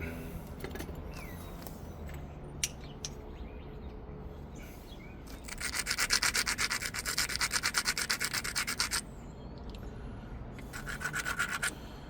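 An obsidian point from Glass Buttes is ground by hand against an abrasive, giving close, rhythmic rubbing strokes that swell into a louder run of scraping midway and briefly again near the end.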